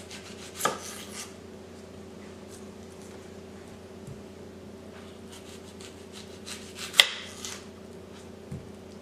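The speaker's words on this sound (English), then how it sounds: "I will use 1 to 2 yellow onions depending on the size. Cut off both ends." A knife trims both ends off a yellow onion on a cutting board, giving a couple of sharp, close chopping taps against a quiet background hum, with no voices.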